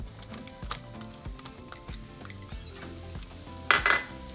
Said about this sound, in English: once our butter has melted, we're going to add our onion